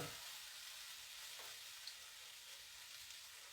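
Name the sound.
shrimp sizzling as they stir fry in a hot pan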